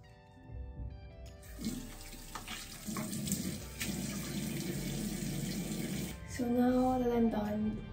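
Tap water runs into a sink while someone wets their face for a nighttime skincare routine, a steady close splashing rush with shifting tone as hands move through the stream.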